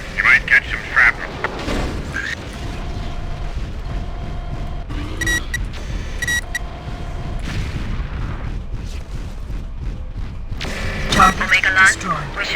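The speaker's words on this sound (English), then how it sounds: "try not to get too close to the explosions" Explosions rumble through a lunar battle in the MechWarrior IV Vengeance game, with heavy booms and thuds that land in bursts near the start and again toward the end. Mechanical whirs and mission radio talk run between them.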